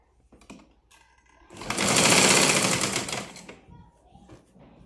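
A sewing machine stitching a blouse runs in one steady, loud whirring burst of about two seconds, rising and fading, with faint clicks and handling sounds before and after.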